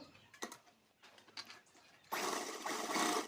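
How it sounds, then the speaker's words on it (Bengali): A sewing machine stitching a child's designer frock, with a few faint mechanical taps early on, then a sudden burst of steady, fast whirring stitching that runs close and continuous to the end. "দেখুন আমি সেলাই দিয়ে নিচ্ছি।"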